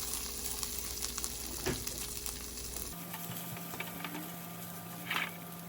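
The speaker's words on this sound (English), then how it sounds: "Garlic is ready, so let's add the carrot and the celery" Carrot and celery sauté with garlic in a pan, giving a steady close sizzle with occasional stirring scrapes. The frying sound drops to a quieter hiss partway through.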